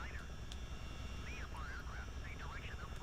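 A Miltech CH-47D helicopter in MSFS hovers with a steady, dense rotor and engine drone, joined by high warbling tonal chirps that sweep up and down over the hum.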